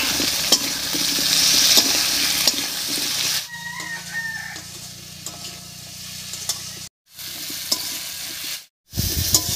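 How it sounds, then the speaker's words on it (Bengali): Spice paste of dried chili, cumin and ginger being stirred into potatoes frying in a pan, steady sizzling with scraping stir strokes, interrupted by brief silent gaps. "মশলাগুলো দিয়ে ভালো করে মিশিয়ে নিয়েছি।"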